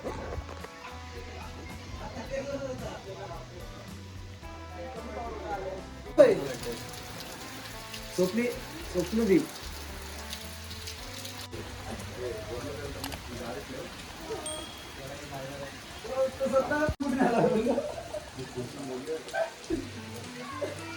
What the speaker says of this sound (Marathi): सकाळचे नऊ वाजलेत आणि पावसाने सुरुवात केली